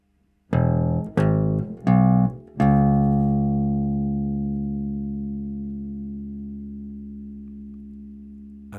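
Four slow bass guitar notes are plucked one after another, each ringing out, with the last note left to sustain and slowly decay alone.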